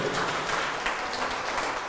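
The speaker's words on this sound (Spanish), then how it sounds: "Un aplauso a ustedes" Applause from a church congregation during a Spanish-language sermon on the lost sheep, a brief, moderately faint and steady patter of clapping with no talk over it.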